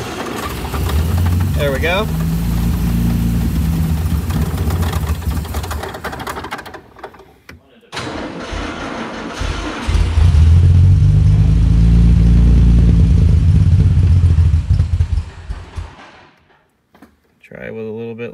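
Small BT7 engine, damaged by mice, cranks and fires on starter fluid into a loud rapid chugging run, cuts out briefly, then roars again before dying; someone speaks briefly.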